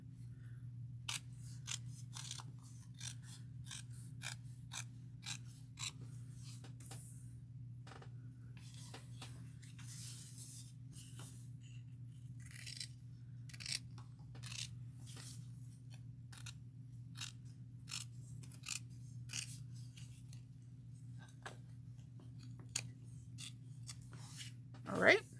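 Scissors snip steadily along the sides of a tote bag, a long run of crisp, close, quiet cuts at an irregular pace over a low constant hum, with no talking.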